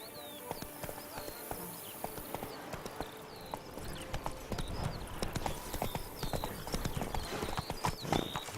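Roach, a horse in The Witcher 3: Blood and Wine, gallops in a steady clip-clop rhythm of hooves while birds chirp faintly in the background.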